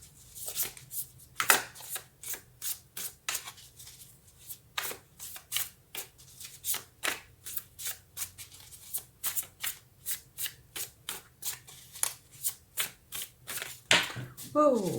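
A deck of tarot cards shuffled by hand, with a steady run of crisp riffling snaps and flicks repeating for the whole stretch, close and clear, with no talking over it.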